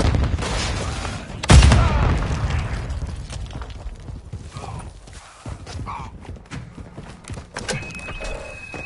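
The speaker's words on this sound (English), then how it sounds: "Tossing a frag" A frag grenade explodes in Call of Duty, one loud close boom with a rumbling tail that fades over several seconds, followed by scattered distant shots and battlefield clatter.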